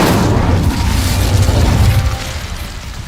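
An Incendio fire spell blast in Hogwarts Legacy, a loud roaring whoosh of flame with a rumbling low end that holds for about two seconds, then eases off.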